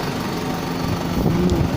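Tractor engine drones steadily while harrowing a field with a weighted hitch, a constant close mechanical hum with a slight rise toward the end and no voices.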